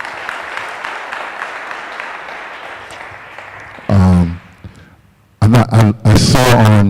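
A church audience claps for about four seconds, a dense steady patter of many hands, before loud speech takes over; the clapping fades out under the talking.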